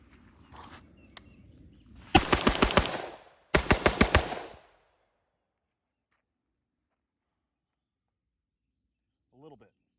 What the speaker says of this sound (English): I'm just gonna run about 10 rounds, 5 and 5 on each target, just really quickly.